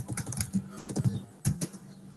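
Close, quick clicking of a computer keyboard as a project name is typed, a short burst of irregular keystrokes with a couple of louder taps.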